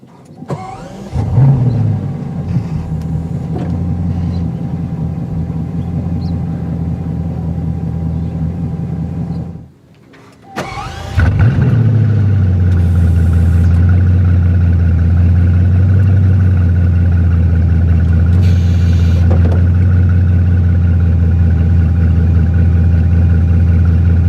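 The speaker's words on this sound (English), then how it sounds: "hit the blue engine start button in the bottom right hand corner of the steering wheel to go" A Bugatti Chiron supercar starts after a brief whir and hush, its engine catching with a loud flare before settling into a deep, steady, smooth idle that holds to the end.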